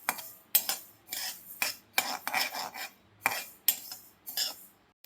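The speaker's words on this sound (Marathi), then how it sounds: "आता यामध्ये मी हे कारळे भाजणार आहे" Niger seeds (karale) dry-roasting in a pan while being stirred, giving repeated scraping, rattling strokes in an irregular rhythm, close and fairly loud with short pauses between stirs.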